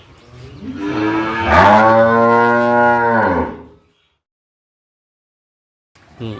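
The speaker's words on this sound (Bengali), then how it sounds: "আমাদের এখানে 40টা গাভী গরু আছে" A dairy cow on a farm of about forty milking cows gives one long, loud, close moo lasting several seconds, followed by silence until another sound starts right at the end.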